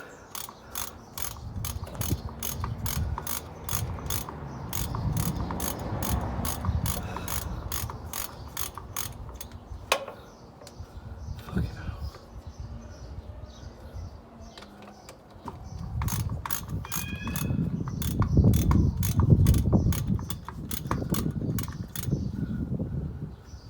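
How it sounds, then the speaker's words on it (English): Rapid, close ratchet clicking while tightening bolts on a Vauxhall Corsa VXR dog bone engine mount, steady runs of pawl ticks broken by a pause and then resuming amid rustling and low mechanical noise. "use an extension on your ratchet."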